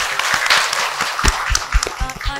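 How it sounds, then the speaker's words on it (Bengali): An audience claps on a televised dance talent show stage, a dense burst of applause with sharp individual hand claps standing out near the front. "তার জন্য একটু হাততালি দাও।"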